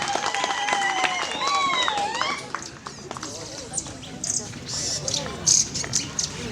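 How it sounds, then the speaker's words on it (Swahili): Graduates and guests at a business college graduation ceremony break into applause with cheering and whistles, a broad clapping wash that thins into scattered claps near the end. "Wapigieni makofi mazuri jamani."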